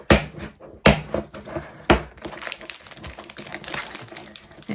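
Papers and craft materials for journaling cards being shuffled and handled close by, with crinkling rustles, sharp taps and scattered clicks running steadily through the whole stretch, no talk.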